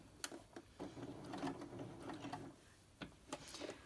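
A sewing machine stitching fabric onto a book cover runs in a low steady whirr, broken by sharp mechanical clicks and clunks at irregular intervals, quiet and close with no voice.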